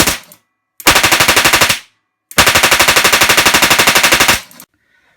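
A homemade LPG-fuelled combustion gun fires in two loud, rapid automatic bursts, a short one then a longer rattling string, separated by silence, with no talking.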